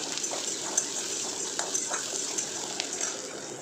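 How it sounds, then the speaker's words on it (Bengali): Onions fry in a pan, a steady soft sizzle and hiss with occasional faint clinks and stirring scrapes, fairly quiet and even throughout. "এই যে দেখো পেঁয়াজটা ওদিকে ভাজা হচ্ছে"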